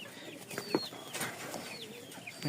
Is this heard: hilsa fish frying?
no